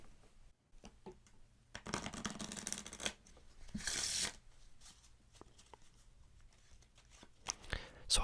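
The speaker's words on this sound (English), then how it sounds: "Let's give them a bit of a shuffle." A Bicycle Ice deck of playing cards being shuffled up close, with quiet riffles and snaps rising into two louder bursts of fluttering cards, then soft handling clicks.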